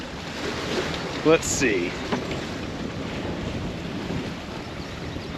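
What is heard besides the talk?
wind at a lakeside beach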